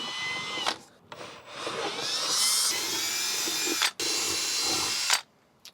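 A power tool hones out screw holes while a Winnebago Revel kitchen caddy is being installed, a close whining drill buzz running in several bursts with brief pauses between them.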